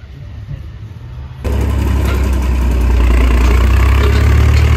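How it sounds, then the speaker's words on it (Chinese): A loud, steady tractor engine with a rotary tiller ploughing a rural yard in Serbia rumbles close by, its drone jumping up abruptly after a quieter start and then holding heavy and continuous. "我看邻居开了这个拖拉机、旋耕机在耕地呢。"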